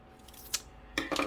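Scissors cutting paper for a junk journal, a quiet snip followed by a brief louder pair of crisp cuts near the end, close and alone against a faint background.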